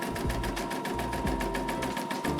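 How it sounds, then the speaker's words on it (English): An embroidery machine stitches a beanie, a fast, even mechanical chatter of needle strokes repeating steadily and close up. "Embroidery is speeding up. You can see it's stitching perfectly so far."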